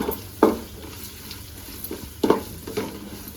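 Onions sautéing in a pan with ginger-garlic paste, a soft sizzle under a few sharp scrapes and stirs of a spoon, close by.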